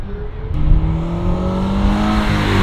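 A 2022 Subaru BRZ fitted with a titanium exhaust accelerates hard, its engine note rising in a loud, steady rasp that climbs in pitch over a few seconds without any voices.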